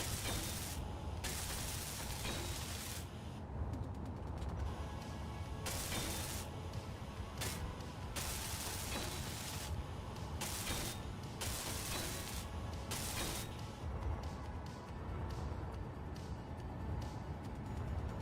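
Welding in the Space Engineers game, a continuous loud hissing, crackling spray that keeps going for the whole stretch and stops and restarts in short bursts, with no talk.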